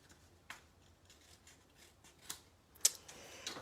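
Scissors trim excess paper up close, a series of faint, crisp snips spaced irregularly, with one sharper cut near the end and no talking.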